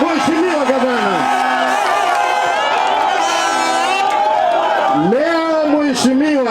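An outdoor political rally crowd cheers for a governor with loud whoops, shouts and a sustained roar. The crowd noise stays close and energetic from start to finish.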